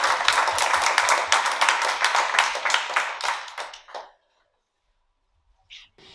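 An audience at an indigenous Zenú community gathering breaks into dense, loud applause that tapers off after about four seconds, then falls silent apart from a brief faint sound near the end.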